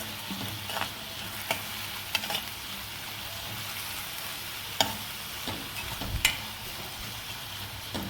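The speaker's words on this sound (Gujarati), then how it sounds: "આપણા કાંદા આમાં સતોળાય છે સરસ તેલમાં" Onions sautéing in oil for sambar sizzle quietly and steadily, with a few soft clicks and scrapes of a spoon stirring the pan now and then.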